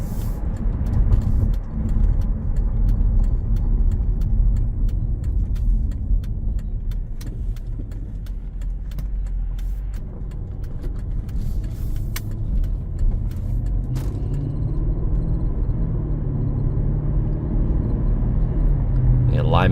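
A 2012 Mercedes-Benz SL 550 drives along with a steady low engine and road rumble and some light clicks and rattles, heard from inside the car while someone talks throughout.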